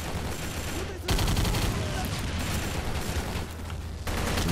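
Dense, continuous gunfire and battle noise from a World War II Pacific shooter set on Iwo Jima, loud and steady across the whole stretch with brief dips, no voice in the foreground.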